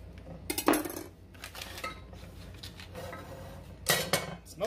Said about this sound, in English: So let's pull out one of our knives here.